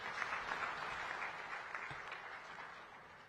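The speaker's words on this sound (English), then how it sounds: "Another round of applause, ladies and gentlemen." Sustained applause from a large audience at a summit of heads of state and government, a dense wash of clapping that holds steady and then gradually fades, heard from some distance.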